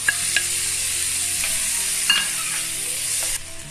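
Onion and tomato sauté in a hot pan for chopsuey, giving a steady, close sizzle throughout. Occasional stirring clicks and scrapes break in, and the frying fades slightly toward the end.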